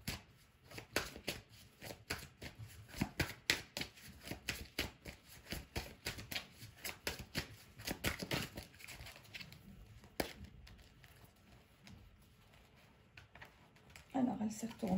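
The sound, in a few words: shuffling a deck of oracle cards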